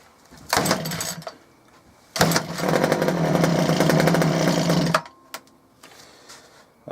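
Small Sabre petrol engine run on old fuel starts up: a short burst of engine noise, a pause, then a loud near sustained run of about three seconds that cuts off, with faint clatter afterward.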